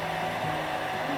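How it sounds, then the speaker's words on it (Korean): A handheld hair dryer blows hot air over a clay soap dish craft piece, producing a steady, loud whooshing roar that runs without a break for the whole moment. "그러면은 이때 이용할 수 있는 게 드라이기예요."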